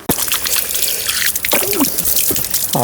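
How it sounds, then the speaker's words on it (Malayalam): Water poured from a vessel at an open-air well in a Kerala village while someone washes hands and feet, a close, continuous splashing and trickling with brief drips and gushes throughout. "പണി തൽക്കാലത്തേക്ക് നിർത്തി കൈയും കാലും കഴുകുന്നു."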